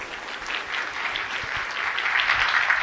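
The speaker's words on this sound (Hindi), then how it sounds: "ताली बजा के आप स्वागत करें" An audience at a state-level employment day event in Bhopal breaks into applause, a steady patter of many clapping hands at moderate level throughout, building slightly toward the end with no voices.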